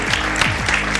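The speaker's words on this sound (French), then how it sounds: "Ça s'applaudit quand même." Short burst of audience applause at an awards ceremony for young leaders in Burkina Faso, dense clapping close and loud with a faint voice underneath.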